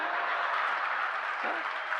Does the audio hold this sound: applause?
yes